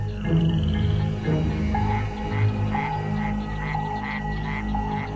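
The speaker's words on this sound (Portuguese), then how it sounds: "o chamado White-lipped Frog mexicano emite uma série de sons semelhantes a gorjeios" A Mexican white-lipped frog calls repeatedly with short, evenly spaced chirping notes over a low rumbling background, steady and fairly close.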